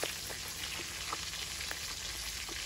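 Fish frying in a pan gives a steady, dense sizzle with scattered crackles and pops throughout, close and continuous with no voices.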